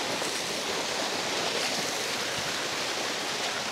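Spring water gushes strongly into a river at Casile, Cabuyao, Laguna, a dense, continuous close-up rush of splashing flow with no breaks.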